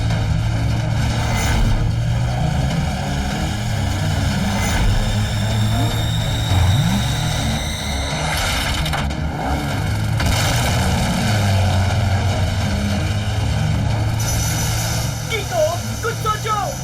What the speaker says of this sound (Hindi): मेरी ये सुपर बाइक ही काफी है, जो ऑटो मोड में चलते हुए अटैक करती है।